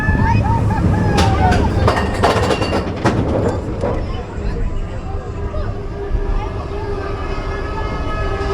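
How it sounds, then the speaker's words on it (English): A Vekoma roller coaster on Expedition Everest at Disney's Animal Kingdom rumbles and clatters along its track, loud and close, with rattling bursts early and a steady roar afterward, while riders talk and shout over it. "I'm sure it's another Vekoma ride, this one."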